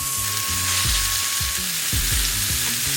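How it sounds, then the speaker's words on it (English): Fish fillet searing in hot butter in a pan, a steady close sizzle and crackle throughout with a few clattering pan sounds, no talking. "Let the butter get hot. That's what it creates its own non-stick surface once you do that."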